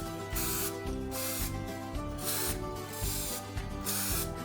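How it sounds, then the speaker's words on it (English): Cooking spray hissing in repeated short bursts into mini foil tins, close and loud, with pulsing spurts separated by brief pauses and faint mechanical clicks of the nozzle. "Now it's time to put some cooking spray on them"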